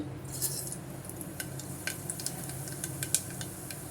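Mustard seeds and urad dal temper in hot oil in a pressure cooker, a soft steady sizzle broken by sharp crackling pops and light metallic clinks of a stirring spoon, fairly faint with no voices.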